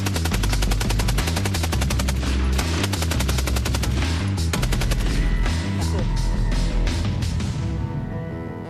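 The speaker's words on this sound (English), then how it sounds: "now I'm going to fire the Maxim." A Maxim machine gun fires sustained, loud bursts of rapid rounds, with dense rhythmic blasts continuing nearly unbroken before easing slightly at the end.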